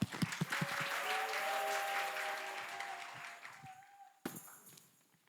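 Audience applause at the start of a speech contest, a dense burst of clapping that rises, holds, then fades, with a few sharp claps near the end.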